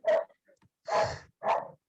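A dog barks three times close by, sharp separate barks with short pauses between them, the middle bark longest, with no other sound around them.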